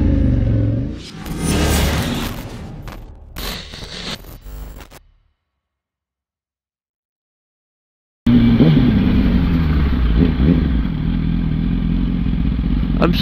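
A loud motorcycle engine revs and rumbles up close, cuts out into a few seconds of silence, then returns as a steady idle.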